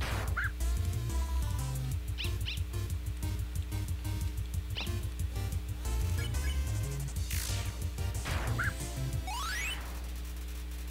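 Short yapping dog barks in the video game Undertale, sounding over a bouncy chiptune music track with rising synth blips.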